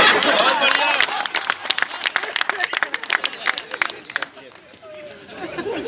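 Audience at a Hindi comedy show clapping, a dense burst of scattered hand claps mixed with crowd chatter and laughter, fading into murmuring voices toward the end.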